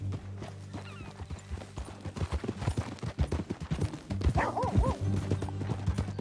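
Hooves clip-clop in a quick rhythmic trot amid Red Dead Redemption 2 game sound effects, with a horse snort and a dog-like bark partway through.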